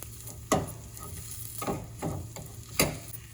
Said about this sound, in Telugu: చిక్కుడుకాయ వేసేసి కలుపుతున్నాను